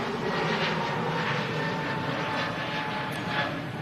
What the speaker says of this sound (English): Definitely looks great on the A319 though. EasyJet A320 Neo.